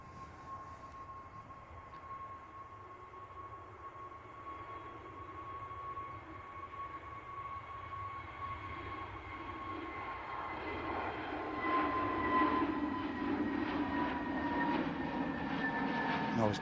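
A Qatar Airways Airbus A350 takes off at Manchester Airport, heard from a distance as a steady engine whine and hum that swells into a broader, louder roar as it accelerates.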